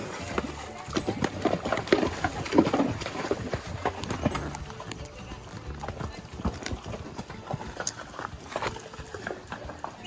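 Horse hooves clip-clop in an uneven walking rhythm on a trail in Custer State Park, with rustling and occasional voices in the background.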